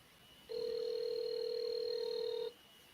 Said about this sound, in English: We're gonna interview uh Ermias via phone.